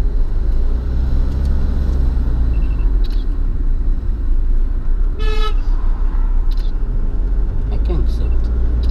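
A car horn gives one short, bright honk partway through, rising over the steady rumble of nearby road traffic and engines. People talk quietly at times.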